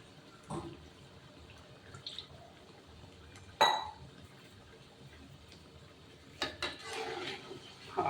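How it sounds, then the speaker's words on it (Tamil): Water is poured into chicken gravy in a cooking pan, with a few splashes and drips over a low kitchen background hiss. "ரொம்ப இல்லை, ஒரு 1/2 டம்ளர் தண்ணி சேர்த்துக்கணும்."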